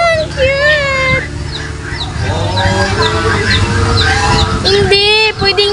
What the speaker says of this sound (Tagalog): ang cute ng tandang